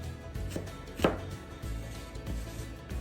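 A kitchen knife slices an onion thin on a cutting board, each cut landing as a close, crisp chop in an irregular run of strokes, one noticeably sharper than the rest.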